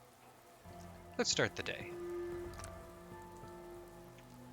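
Steady indoor rain patters inside a house in a modded Fallout 4 survival game, a constant soft wash under a brief spoken line.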